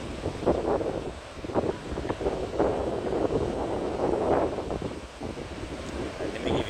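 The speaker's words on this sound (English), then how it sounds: "if the sound gets muffled in and out, it's because of the fact that it's pretty windy today here at Carlsbad State Beach" Gusty wind buffets a microphone on a windy day at Carlsbad State Beach, producing low, uneven rumbling and muffled whooshing that swells and dips throughout, with faint surf in the background.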